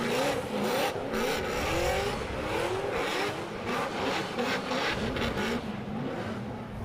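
A carbon Kevlar Nissan Silvia S15 drift car warms its tyres at a drift championship on the Yas Marina F1 track, a loud continuous engine roar with pulsing revs and tyre noise.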